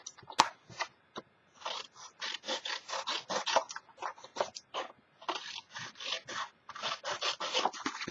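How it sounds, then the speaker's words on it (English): Scissors cutting the corners off paper pieces for a mini album, quick bursts of crisp snipping and rustling paper separated by short pauses, close and clear, with no talking. "You're going to whack off all your corners here. Just cut them off."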